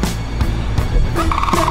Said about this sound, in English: That's one of them turkeys.